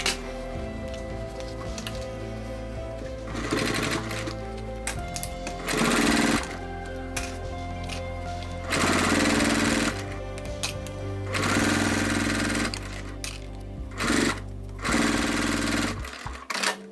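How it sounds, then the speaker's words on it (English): Sewing machine stitching through thick, sturdy strap material where glue was applied, a steady mechanical whir in bursts of varying speed, loud and close with brief pauses between runs. "Now I'm sewing where the glue is."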